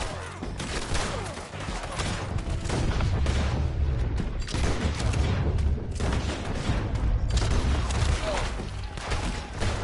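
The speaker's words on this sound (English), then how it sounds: "Artillery!" Artillery fire in the Red Dead video game: a dense, continuous barrage of booming blasts and crackling gunfire rolls on loudly for the whole stretch, with a deep low rumble underneath.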